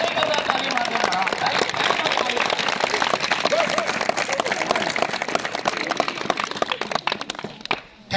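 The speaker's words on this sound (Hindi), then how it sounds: "एक बार और जोर से इनके ताली, ये कंजूसी कर रहा ताली मार देना" Students at a government inter college quiz competition clap hard in a dense, sustained round of applause that carries on for several seconds before thinning out near the end.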